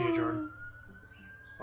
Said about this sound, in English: So that's a siren.